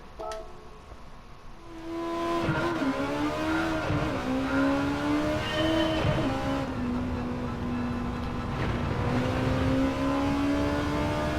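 A front-wheel-drive race car in Gran Turismo 7, driven with a controller, revs up from idle and holds a loud sustained engine drone through gear changes, with brief tire squeal as it accelerates.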